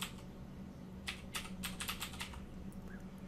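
Rapid bursts of keystrokes on a computer keyboard as a username is entered at a sign-in prompt, close and crisp, with short pauses between clusters over a steady low hum.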